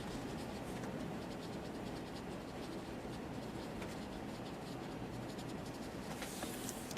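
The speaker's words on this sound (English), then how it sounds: "I'm just going to use my eraser and I'm going to, in circular motion," An eraser rubs steadily across paper over a pencil perspective drawing, making a continuous close scratchy friction noise in circular strokes for several seconds.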